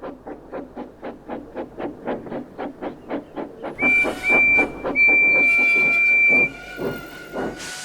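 Steam locomotive reversing back to a siding: a close, regular chuffing beat runs throughout, joined midway by a sustained, shrill whistle blast and hissing steam before the chuffs carry on.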